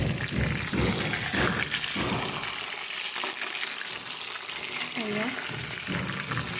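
Kebabs fry in a pan, giving a loud, continuous sizzle with occasional clatter as they are stirred, while a voice talks over it.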